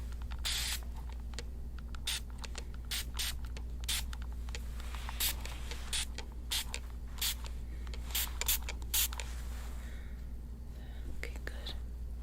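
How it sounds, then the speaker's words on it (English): Short bursts of a spray bottle misting water onto a cool tissue laid over a face in a beauty salon facial, a dozen or so crisp sprays spaced irregularly against a steady low hum, close-up. "And spray water into it."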